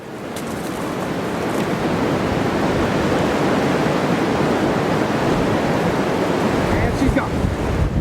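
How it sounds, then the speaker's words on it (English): Steady, loud wind roars through a snowstorm on open water during a fishing trip, a broad rushing noise buffeting the microphone that builds over the first second and holds with slight gusting, with no voices. "Fishing in the snowstorm, but not ice fishing."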